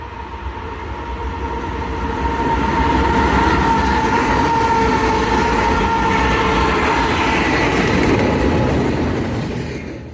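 A heavy double-stack freight train rumbles past up close, a steady loud roar of rolling cars with a sustained tonal hum, building then easing slightly.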